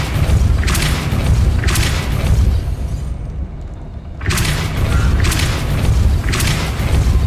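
The Depulso push spell is cast in the game Hogwarts Legacy, giving loud, sustained booming whooshes that drop away briefly midway before surging back just as strong.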